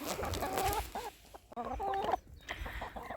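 Hens cluck and chatter close by in a sunny farmyard in Yaremche, giving a string of short, uneven calls with brief pauses between them.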